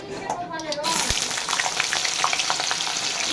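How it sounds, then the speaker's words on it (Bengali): Radishes sizzle loudly in hot oil in a pan after the pointed gourd has been fried, with steady dense crackling that starts with a short clink and runs on without pause, close up. "আমি মূলোগুলো ভেজে নেব।"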